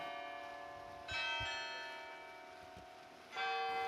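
Tuned carillon bells ring in the North Tower of Grace Cathedral, sustained strikes ringing out and overlapping, with a fresh loud stroke near the end over a steady resonant hum.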